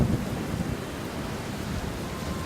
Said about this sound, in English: Raining, hailing, wind is wailing, hear the thunder roar.